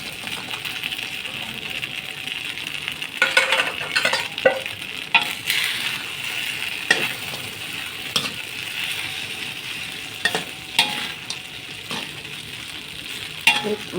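Noodles being stir-fried with crispy pork in a pan, a steady sizzle with repeated scraping and clattering strokes of the spatula throughout, fairly close and moderately loud.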